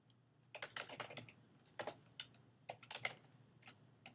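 Typing a subject line on a computer keyboard: quick bursts of close, crisp key clicks in uneven clusters with brief pauses, quiet and with no talking.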